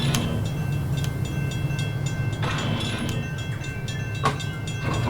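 A train rumbles past steadily in the model train video game Rolling Line, with a low rolling drone, a sustained tone and a few sharp metallic clanks, with no speech.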